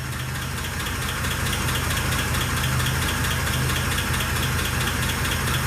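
The engine of a 1948 Pontiac Torpedo with a cast iron head idles close by, a continuous, even rumble with a faint rhythmic ticking running through it.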